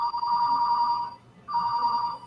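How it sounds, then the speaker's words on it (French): A telephone rings twice, loud and close: a steady electronic trill of about a second, a short pause, then a second ring, with no voices. "Ah, notre téléphone, il n'y a pas que moi."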